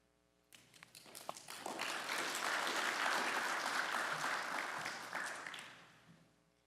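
Sustained audience applause at an Eagle Scout ceremony, a broad wash of many hands clapping that swells after a few scattered claps, holds steady for several seconds, then tapers off.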